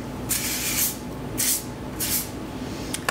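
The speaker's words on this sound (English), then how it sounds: "So I'm just gonna use a little bit of thermal shine spray on my hair." KQC thermal shine heat protectant hair spray sprays close by in three short hissing bursts, followed by a couple of quick puffs. No one speaks.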